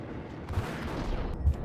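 Shotgun blasts in the Max Payne video game, a short burst of heavy booming gunfire with a deep rumbling tail and a second loud blast near the end.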